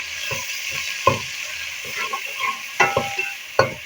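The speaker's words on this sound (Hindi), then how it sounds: "प्याजों को हम फ्राई होने देंगे थोड़ी देर" Finely chopped onions fry in hot ghee with a steady broadband sizzle, punctuated by several sharp scrapes and clacks of stirring; close and moderately loud, with no talking.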